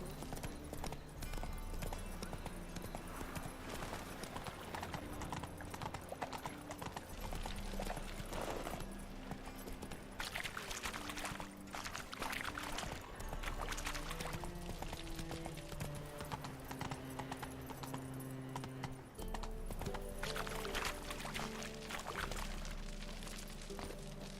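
A horse galloping in The Witcher video game: steady rapid hoofbeats run through the whole stretch under game music and ambient effects, fairly even in loudness and moderately close.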